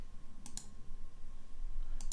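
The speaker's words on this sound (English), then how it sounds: "So I click on Save, click on OK" Two crisp mouse clicks, a pair of quick taps roughly a second and a half apart, sound close and distinct over a quiet room hum as the Save and OK buttons are pressed in software.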